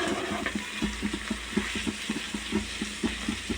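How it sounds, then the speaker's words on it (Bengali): Bitter gourd and potato frying in oil, a close sizzle cut by regular rhythmic scraping as a spatula stirs the pan, about three strokes a second. "একেবারে তেলের সাথে ভাজা ভাজা হয়ে গেছে"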